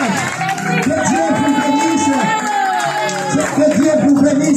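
A graduation ceremony audience applauds and cheers in a loud, steady crowd roar, with voices and tonal sounds mixed throughout.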